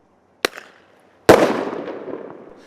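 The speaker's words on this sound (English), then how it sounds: "now uses non-lethal noisemakers in hopes they can make downtown Sunnyside so unpleasant for the crows" Non-lethal noisemaker rounds are fired into downtown treetops to scare off crows: a short sharp pop, then a much louder bang that rings out and decays over the following second.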